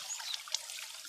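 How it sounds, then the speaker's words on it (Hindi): Spring water in Kashmir trickling and splashing softly, a faint continuous bright babble with small droplet accents, heard close with no voices. "ये देखें, चश्मे का पानी है ना,"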